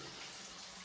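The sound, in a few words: water flowing from cleaning device into bucket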